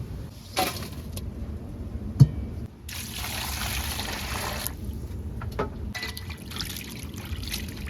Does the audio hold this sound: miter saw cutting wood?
no